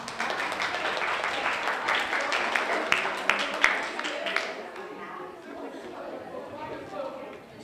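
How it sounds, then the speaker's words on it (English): A group at an autumn fairy tale festival claps for themselves after a session, a few seconds of lively clapping with chatter that dies away into quieter talk and room noise. "you can clap yourself"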